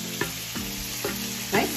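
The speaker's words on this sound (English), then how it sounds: "Salmon is cooking nicely." Salmon pan-searing in a pan gives a steady close sizzle and frying hiss, broken by a few soft stirring or shifting knocks spaced about half a second apart.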